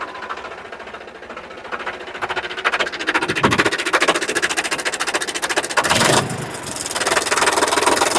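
A tractor engine runs steadily close by, its mid-pitched drone holding level with a brief surge and dip near the end, and no voices over it.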